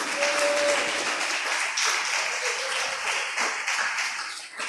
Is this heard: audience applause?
yes